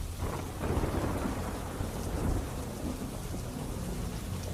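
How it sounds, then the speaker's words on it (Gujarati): Rain falls steadily across open ground while deep thunder rolls underneath, a broad, continuous wash of noise with swelling low rumbles and no voices. "જે ધીમી ગતિએ અત્યારે વરસાદ વરસી રહ્યો છે"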